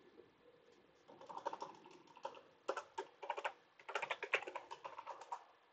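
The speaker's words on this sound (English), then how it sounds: "I hope I type the same password." Bursts of typing on a computer keyboard as a password is entered, quick clusters of close, crisp key clicks with short pauses between runs.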